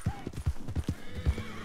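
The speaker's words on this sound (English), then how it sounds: "Is this a horse?" Horse hooves clip-clop on the ground in Red Dead Redemption 2, a steady close walking rhythm of about seven hoofbeats, with a faint short whinny near the start.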